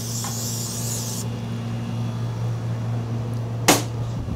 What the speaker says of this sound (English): Some cooking spray on the bottom.